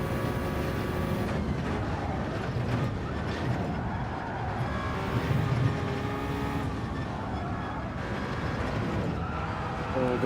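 A race car engine in Gran Turismo 7 drones steadily, with a sustained mid-range hum and some shifts in pitch, while faint background talk sits underneath.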